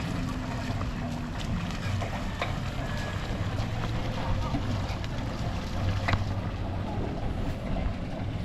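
A loaded boat moves slowly across Sumlang Lake in Daraga, Albay, with a steady low engine rumble, water wash and wind buffeting the microphone throughout, close and continuous, with occasional faint voices.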